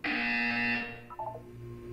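A loud electronic buzzer sounds in a Portal 2 test chamber, a steady harsh tone holding for about a second before cutting off, followed by softer electronic chirps and a low background hum.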